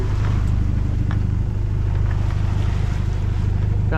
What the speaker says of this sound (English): Had to get the motor going because there was actually a countercurrent pushing us back the way we came